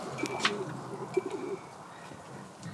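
Pigeons cooing in a young bird loft, soft repeated coos with a few chirps scattered across the clip, moderately close but fairly faint over a low background hum.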